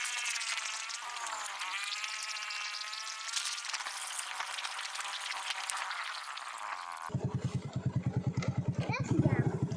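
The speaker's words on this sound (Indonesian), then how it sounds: "Kami naik motor." Motorcycle carrying a parent and child along a village road toward rice-field water, its engine droning steadily under a voice, then a louder, close rhythmic engine pulsing near the end.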